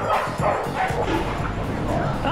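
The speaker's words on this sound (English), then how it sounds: "This place has 37 dogs, and you can come here, enjoy the coffee, and watch them." Several dogs at a Bangkok dog café bark and yip in quick, overlapping bursts with a whimper or two, close and fairly loud over a busy room murmur.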